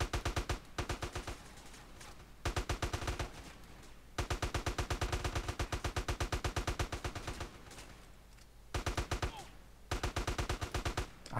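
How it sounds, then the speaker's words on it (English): Rapid bursts of AK rifle fire from GTA San Andreas, heard in the modded GTA Underground, come as loud full-auto volleys in several separate strings with short pauses between them, alone without talk. "Believe this is San Andreas' AK."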